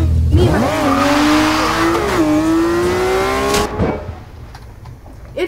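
Car engine in the video game Garry's Mod revving up with a rising, wavering pitch for several seconds, loud and close, then cutting off into a quieter tail.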